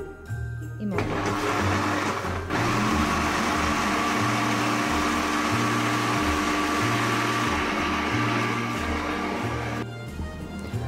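Hand blender whirs through a covered container of homemade rosquilla batter, a loud steady motor drone with pulsing low tones as it mixes, starting after a brief quiet moment and cutting off near the end.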